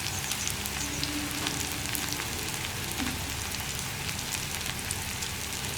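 Curry leaves sizzle in hot oil alongside onion and garlic for a Kerala carrot and pachakka mezhukkupuratti, a steady, close, rain-like crackle of frying that holds evenly throughout with no talk.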